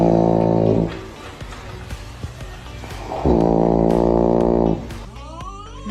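A person snoring loudly, with two long, heavy, rasping snores separated by a quieter gap. Each snore is harsh and buzzing and lasts over a second.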